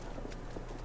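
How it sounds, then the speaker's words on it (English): Horse hooves clip-clop in a Battlefield 1 multiplayer match, a few soft, quick hoofbeats fairly faint and distant over a steady low battlefield rumble. "I hear a horse. There's a horse around."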